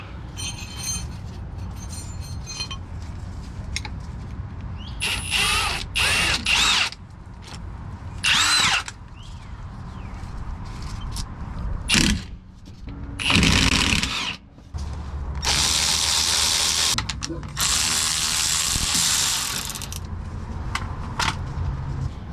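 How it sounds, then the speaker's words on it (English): A socket tool loosens 14 mm drive shaft bolts on a Nissan Xterra during a differential replacement, giving repeated harsh mechanical bursts of a few seconds each, separated by short pauses and metallic clinks. "we'll go ahead and get those drive shaft bolts out. I think those are 14s"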